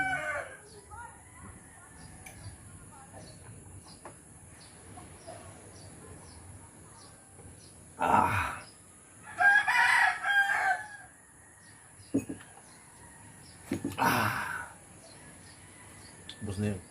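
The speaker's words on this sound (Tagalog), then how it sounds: "Ang iingay din ng mga kuan, manok dito, nakikisabay sa vlog ko" Roosters crow in loud bursts nearby, several calls spaced over quiet stretches, while hens cluck softly and a person talks in the background.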